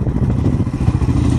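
A KTM dual sport enduro motorcycle idles during a forest group ride, giving a steady, close, loud low engine rumble with a faint mechanical clatter and no talk.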